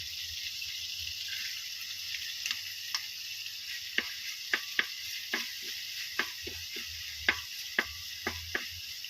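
Meat sizzling in a pan as it renders juice and oil for an adobo-style dish, a faint continuous hiss punctuated by scattered sharp pops and crackles, close and quiet.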